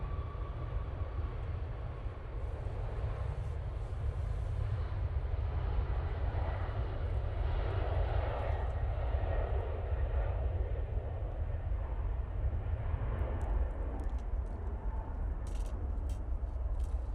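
A TUI airliner passes at Manchester Airport, its engines a low, steady rumble and roar holding throughout at a moderate distance, with no talk.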